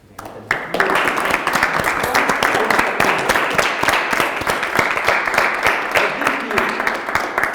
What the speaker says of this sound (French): Donnez-vous une main d'applaudissement.